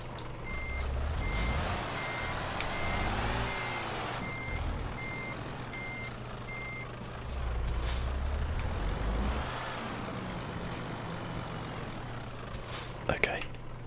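Air brake hiss and a rumbling truck engine from Euro Truck Simulator 2, with reversing beeps repeating steadily and the engine swelling and falling twice over the clip, fairly loud and alone without speech.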